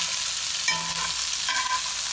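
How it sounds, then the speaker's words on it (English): Chopped onions are stirred into a hot frying pan for a vegan breakfast dish, producing a steady, close sizzle with light scraping from the stirring. "We're gonna mix in some onions here,"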